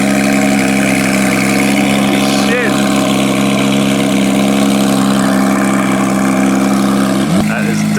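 A Porsche GT3 engine idles loudly and close, a steady throbbing drone holding even with a brief blip near the end, while people talk over it.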